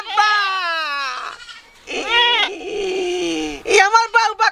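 A voice mimics a goat's bleat in a comedy sketch, giving several wavering, nasal cries in short bursts with gaps between them, loud and close.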